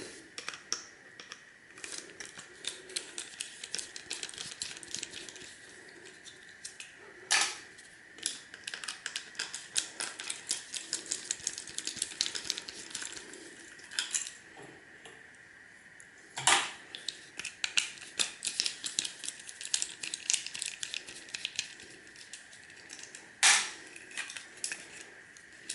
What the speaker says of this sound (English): we'll just remove the screws from underneath